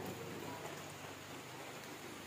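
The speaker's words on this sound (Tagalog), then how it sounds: "Hindi naman masyadong malakas yung ulan, mga boss." Soft, steady hiss of rain falling, fairly faint and continuous with no other sounds.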